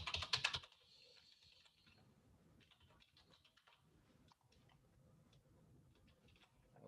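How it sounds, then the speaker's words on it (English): Someone types on a computer keyboard during a webinar, starting with a quick loud flurry of keystrokes before trailing off into faint, scattered clicks and ticks. "Henry, I will just write in my email"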